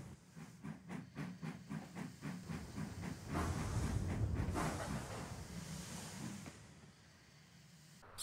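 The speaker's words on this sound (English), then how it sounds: "Rosie was there shunting his train." Steam hissing bursts and rhythmic chuffing from a shunting engine moving goods wagons in a yard, with rising hiss and rumble of rolling stock, moderately near and without talk.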